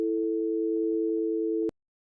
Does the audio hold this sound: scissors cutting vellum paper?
no